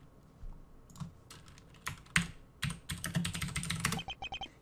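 Keystrokes clatter on a computer keyboard, starting as a few scattered taps and then speeding into a dense run of quick clicks, close and clear with no one talking.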